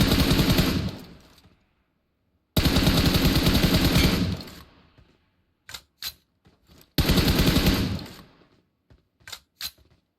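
A teammate's automatic gunfire in an online shooter on a new fifth-anniversary map: three loud, rapid bursts of machine-gun fire, each ending in a fading tail, with a few short single shots in the gaps.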